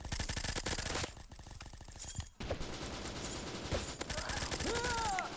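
Rapid automatic gunfire in the Bullet Force shooter game, dense bursts of shots at close range, broken by a brief pause and followed by more firing and mechanical clatter.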